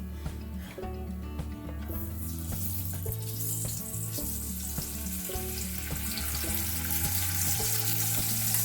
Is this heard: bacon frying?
yes